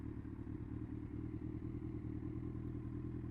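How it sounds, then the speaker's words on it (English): A Kawasaki Z1000 motorcycle rumbles along while being ridden, a low, steady engine drone with faint rattling, heard alone and fairly quiet throughout. "riding a 1/4 of a ton of motorbike."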